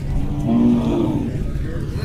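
Khillar calves at the Pandharpur cattle market during the Kartiki Ekadashi fair. One sustained low moo rises from a busy market background that carries a steady murmur and a faint hum of voices.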